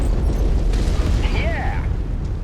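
A target exploding in the mech combat game MechWarrior 5: a loud, continuous booming blast rumbles throughout, with a couple of brief synthetic chirps rising over it partway through.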